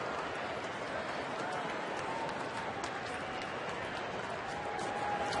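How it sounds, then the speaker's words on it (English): A baseball stadium crowd at a Milwaukee Brewers at Colorado Rockies game in 2010 applauds and cheers steadily, a dense, even wash of clapping and voices from a large crowd that stays at one level throughout. "that's when you start to see some hands get together and people cheering a little bit"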